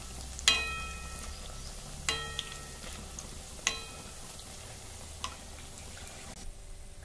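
Chiroti, layered flaky dough, frying in hot oil, giving a faint steady sizzle with a few sharp crackles and pops scattered at intervals, close and quiet with no voices.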